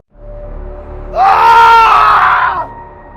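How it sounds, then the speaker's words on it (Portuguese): A creature in a horror story lets out a single drawn-out roar, a loud, close, strained howl that swells for about a second and a half and then cuts off. "o urro da criatura, como se comemorasse a primeira vítima"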